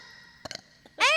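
At a voice actor panel at a pony fan convention, a short, loud, rising burp follows a few faint clicks and breaths, heard alone near the microphone.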